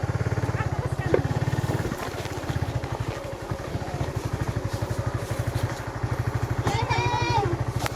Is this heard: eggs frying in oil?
no